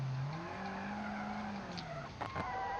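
Car skidding in the BeamNG driving game, a steady tire squeal and engine drone sliding in pitch, with a couple of brief sharp knocks near the end, no talk.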